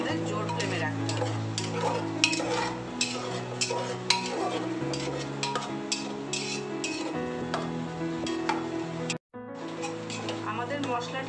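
Dalia with moong dal being stirred and sautéed in spices in a pan over a high flame, with steady scraping and clinking of a spoon against the pan under a continuous sizzle, and a brief break near the end.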